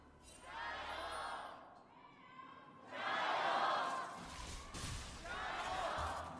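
A loud arena crowd at an LPL esports match between AL and Weibo Gaming cheers in three big swelling waves, with brief lulls between the surges.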